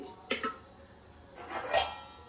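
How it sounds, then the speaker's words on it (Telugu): A lid is set onto a cooking pot of spring onion stew, making two quick metallic clanks and then a louder scraping clatter, close and fairly faint against a quiet room. "ఇప్పుడు దీన్ని మూత పెట్టి"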